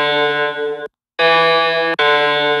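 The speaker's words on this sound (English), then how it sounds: "second tone is larger, because this is a baby step. It's a major second." Two sustained synthetic tones a major second apart play from an ear training app, loud and bright, each held and cut off with short silent gaps between repeats.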